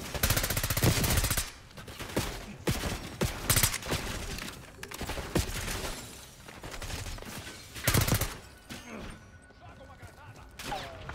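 Gunfire in the game Call of Duty Black Ops 6: loud bursts of automatic fire and single sharp shots crack up close in uneven clusters, with some shattering debris, and brief voices break in between volleys.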